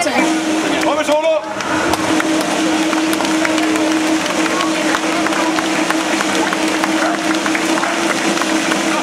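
An audience claps at an outdoor juggling and giraffe-unicycle show, a continuous broad patter of many hands over a low steady hum, with a brief voice near the start and crowd noise throughout.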